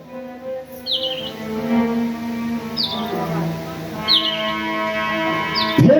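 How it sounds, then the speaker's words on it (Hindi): Birds chirp at dawn in about four short, bright bursts spread across the stretch, heard over a sustained chanted or sung voice. "चिड़िया चहचहाने लगी।"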